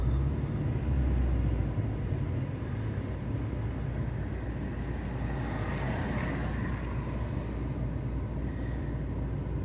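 A car engine with a fault that makes the RPM rise and fall runs steadily with the gas pedal pressed, a loud, close, continuous droning rumble that swells slightly midway, with no talk over it.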